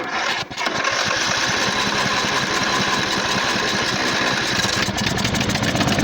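A race mower engine, jump-started straight to the starter stud, fires up and runs with a loud, rapid, rough putter for several seconds before it dies.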